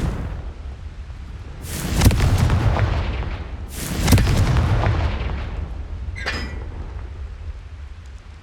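Two heavy blasts of the Confringo fire spell in Hogwarts Legacy burst about two seconds apart, each a loud broadband boom with a rumbling tail, followed by a brief faint magical shimmer.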